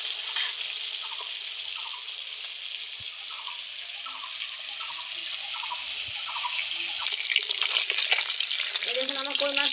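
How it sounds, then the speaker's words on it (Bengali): Koi fish fry in hot oil, a bright steady sizzle with crackling spatters, joined near the end by clinks and a brief rise in bubbling. "কই মাছগুলো খুব সুন্দর করে ভেজে নেব।"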